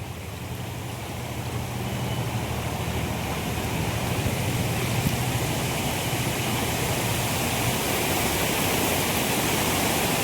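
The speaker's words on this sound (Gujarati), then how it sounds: "થોડો ઘણો વરસાદ આવે એટલે અમારા આ રોડ છે એ હાઉસફુલ જ હોય જુઓ કેટલું બધું પાણી છે" Floodwater flowing across a road after rain makes a loud, steady, close rushing wash that holds constant throughout, with no talking.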